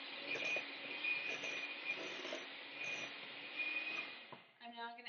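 Soft butter being creamed with brown sugar in a mixer, a steady faint motorized whir with a whining tone that holds for several seconds before cutting off, followed by a brief clatter.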